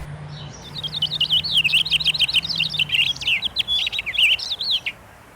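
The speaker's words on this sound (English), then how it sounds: "if you use your imagination, you can hear the bird." A bird sings close by, pouring out a rapid run of bright chirps and warbles for several seconds over a low background hum.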